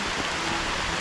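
Rain falling outdoors on a plot of land being cleared, a steady dense hiss with no breaks, fairly loud and even throughout, no voices.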